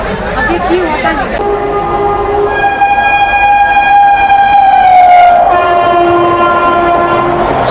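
A Chennai to Coimbatore passenger train pulls into Arakkonam station with a loud, sustained horn blast over rumbling wheels, and a second horn note follows near the end.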